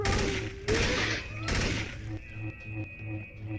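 Gunfire in the video game Trouble in Terrorist Town, several loud bursts of shots followed by a rhythmic series of lighter repeated thumps, with a voice talking over the action.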